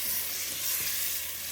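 Blended tomatoes sizzle and hiss steadily in a pot of kanda sauce, a peppered cow skin sauce. The frying is loud and continuous across the short stretch, with no voices.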